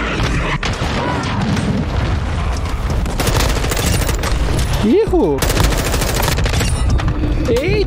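Gunfire in Call of Duty Warzone 2.0 multiplayer, loud dense bursts of automatic shots and booming reports running almost without a break, with a player's excited voice calling out over the shooting.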